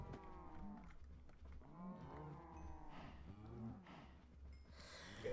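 Cow mooing in a space-themed video game, several long, low moos in a row, fairly clear against faint game background noise.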